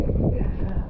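Strong wind buffets the microphone at a cliffside beach campsite, a heavy low roaring rumble with fluttering gusts, loud and constant from start to finish.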